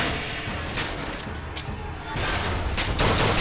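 Rapid gunfire from a first-person shooter, Bioshock Infinite, crackles in dense bursts with a few sharper individual shots, loud and continuous, with a brief lull before the shooting intensifies.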